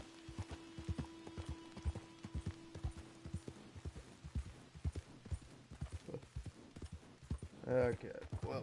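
Horse hooves clip-clop in a steady walking rhythm in Red Dead Redemption 2, fairly close and continuous, with a tonal game sound early on, a whinny near the end, and a player talking over it.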